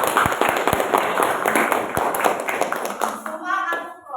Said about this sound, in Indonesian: Sofi, tepuk tangan untuk Adnan.